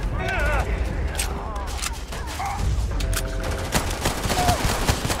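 Rapid bursts of gunfire in the video game Starfield during a fight with pirates, loud shots layered over game effects and continuous talking.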